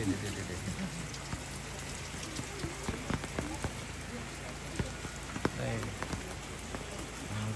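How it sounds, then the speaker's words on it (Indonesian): Steady rain falls at night on a traditional Toraja tongkonan house at Batu Kianak, a dense constant patter with scattered louder drops close by, and voices murmur faintly beneath it. "Iya, hujan. Hujan melanda."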